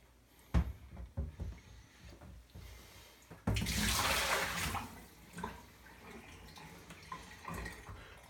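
Water is poured out of a water filter housing that holds sediment: a short, loud gush of splashing lasting about a second, after a few light clunks and knocks of handling.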